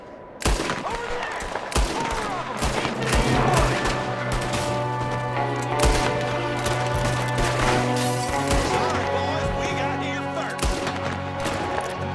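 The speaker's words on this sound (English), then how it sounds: "There's another one shooting from the window." Gunfire in the Red Dead Redemption 2 video game: a dense, continuous fusillade of sharp shots and thuds fills the whole stretch, loud and close over a droning musical score.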